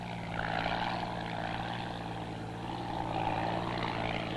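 In the Amazon rainforest, a propeller plane used for crop spraying gives a steady, moderately distant engine drone that swells slightly and then eases.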